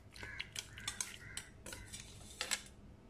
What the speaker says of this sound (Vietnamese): Bây giờ mình sẽ trộn đều.